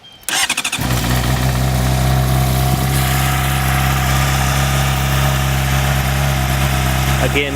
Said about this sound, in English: Again, this is a cold start.